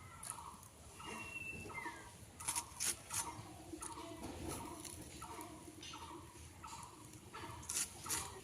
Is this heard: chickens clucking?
yes